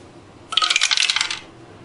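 Two dice rattle and clatter across a table during a Battletech tabletop game, a short close burst lasting about a second over a faint room hum, with no talking.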